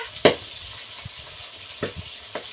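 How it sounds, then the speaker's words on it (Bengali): Hot oil hisses steadily around pieces of kanmagur fish frying in a pan, with a few sharp pops and clicks standing out against the constant near sizzle. "কি এত ধরে তেল ফোটে?"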